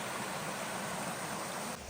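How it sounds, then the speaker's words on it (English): A small waterfall spilling beside a rocky creek along a hiking track, a steady close rush of falling water that fills the clip without pause. "Nice little waterfall on the side of the track"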